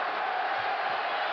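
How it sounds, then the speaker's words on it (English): A basketball arena crowd at an NBA game in 1991 roars and cheers in a steady, dense wash of noise, loud and sustained throughout the short moment. "Stadium crowd coming to life with 16 to shoot."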